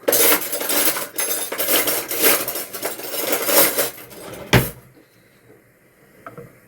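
A metal ladle and kitchen utensils clatter and rattle busily for several seconds as something is rummaged through, ending with a sharp clank and then near quiet.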